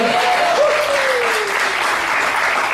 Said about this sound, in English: So give him one more round of applause there.